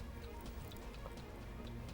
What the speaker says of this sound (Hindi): कमालिया में भी कल रात से तेज़ आंधी के साथ मूसलाधार बारिश का सिलसिला जारी है